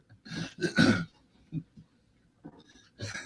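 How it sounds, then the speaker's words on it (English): A man clears his throat several times, rough guttural bursts separated by short pauses, fairly close and moderately loud in an otherwise quiet space. "yeah, you better clear your throat."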